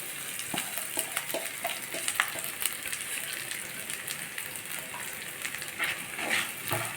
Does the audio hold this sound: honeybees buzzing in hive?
no